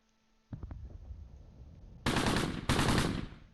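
Gunfire in Close Combat Gateway to Caen, a World War II battle near Tourville in June 1944. A few sharp shots open the clip, then two loud bursts of automatic fire ring out close and heavy.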